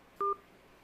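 A single short telephone keypad tone sounds as a key is pressed to pick up an incoming call on a live stream, a clean electronic beep over a quiet background.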